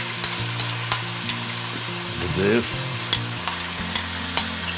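Oil sizzles and crackles steadily in a hot pan of frying tomatoes, with sharp stirring scrapes and a brief burst of hissing as food hits the pan.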